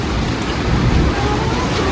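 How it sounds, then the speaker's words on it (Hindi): Heavy rain pours steadily on a Himalayan mountain trek on the Pindari Glacier route in Kumaon, a dense, continuous wash of noise with no breaks across the whole stretch. "बारिश तेज होते रह रही है।"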